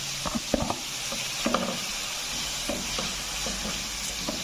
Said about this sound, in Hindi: चिकन को थोड़ा सा फ्राई करेंगे।